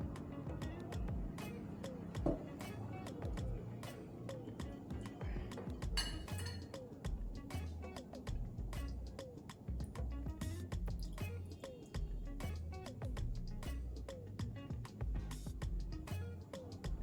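Camwood-infused botanical body oil is poured into a glass container, giving soft drips and a rapid scatter of small glassy clinks and taps, quiet and close, with no talk.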